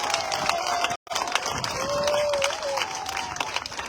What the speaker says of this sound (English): give the President a grand round of applause